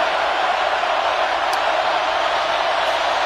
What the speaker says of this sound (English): Crowd is still up in arms.